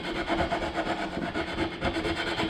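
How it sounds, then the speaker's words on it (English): A small sanding block made of sandpaper wrapped around a 1x2 rubs the cut edge of an MDO plywood sign, giving a continuous gritty, rhythmic back-and-forth scratching that is close and steady with no voices. "So I'll take with this little block sander here,"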